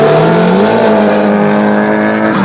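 A drift car revs hard as it launches from the start line in a level 2 series final at Archerfield, the engine note loud and sustained with rising and falling harmonics and no talk over it.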